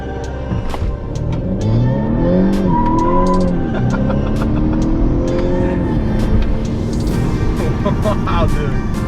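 Honda Accord 2.0T, tenth generation with an aftermarket intake and tune, accelerating hard from a stop as the tires briefly chirp and peel out, the engine loud and rising in pitch through the gears, heard from inside with excited voices over it.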